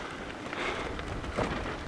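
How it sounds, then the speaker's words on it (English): Rain begins to fall on a bumpy rural road in Colombia, a soft, steady hiss of drops with a few slightly louder spatters, faint and brief. "It's starting to rain."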